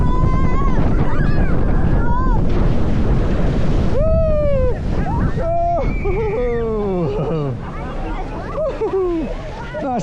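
Water splashing around riders on the Atlantica SuperSplash water coaster at Europa Park, a broad roaring wash of spray and surf noise heard close, with excited riders shouting and talking throughout.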